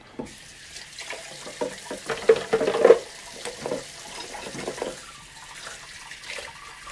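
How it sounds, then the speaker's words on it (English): Tap water runs into a kitchen sink while a pan used for frying eggs is washed, a soft steady stream with brief clattering splashes and knocks in the middle, heard up close. "And I forgot to wash this pan."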